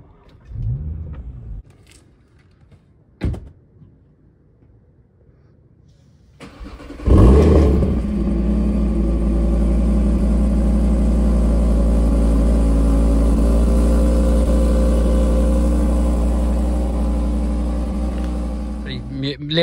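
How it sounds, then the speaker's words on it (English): A car with every factory option is started up: a couple of brief clicks, then the engine catches with a loud crank and settles into a steady, strong idle with a slight rise in revs. It sounds somewhat muted in mild weather. "Let me just give it a little start up for you."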